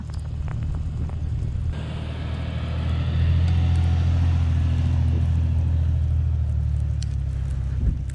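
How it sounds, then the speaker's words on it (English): A 2023 Jeep Wrangler Rubicon 392 V8 climbs a gentle incline, its deep cabin drone swelling louder as it downshifts and the engine note rises and holds under load. "So we're driving up the first little incline here, and the Jeep did downshift to 7th gear."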